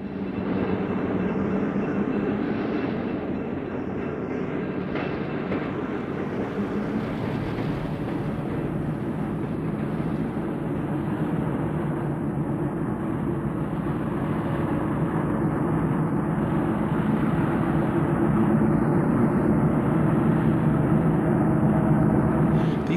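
Four Western Pacific F7 diesel units haul a freight train on a San Jose turn in the Altamont Pass in 1974, a steady, loud engine rumble and rolling rail noise holding throughout with no talk.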